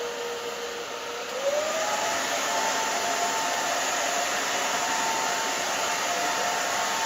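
A handheld blow dryer runs steadily and loudly throughout, drying hair during a bob-and-pixie haircut, with a constant whooshing airflow and a slight pitch shift early on as it moves back and forth.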